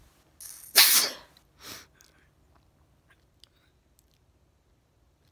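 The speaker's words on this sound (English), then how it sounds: "That sneeze has been coming on all day." A single loud human sneeze with a sharp burst, followed by a smaller sniff or snort, then near silence with faint clicks.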